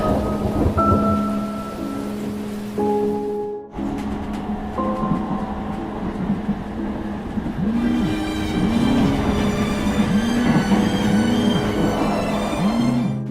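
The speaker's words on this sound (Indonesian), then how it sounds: "Waduh, hujan lagi aja." Steady rain falls with deep rumbles of thunder rolling through, a continuous wet hiss that swells and stays loud throughout, with a brief dip partway before the downpour resumes.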